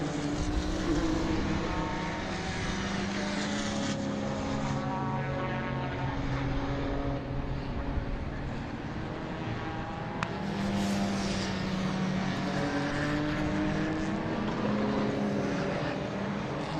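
McLaren and Porsche race cars thunder around Donington Park during an endurance race, engines droning continuously at a middling distance with rising and falling pitch as they pass, no voices audible.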